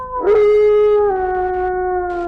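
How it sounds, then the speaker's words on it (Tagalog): A village dog howls from across the settlement at night, one long sustained wavering howl rising then slowly sliding lower, loud and alone with no talk. "Nang biglang may alulong ng aso mula sa kabilang dulo ng baryo."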